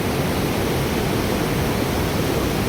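A flooded Terna river rushes below a bridge with the Chauka dam gates fully open, a loud, constant, close roar of water with no break.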